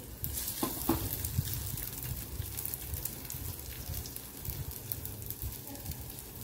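Beetroot and potato cutlets coated with sesame seeds fry in a pan with a steady, fairly loud sizzle and occasional crackles throughout.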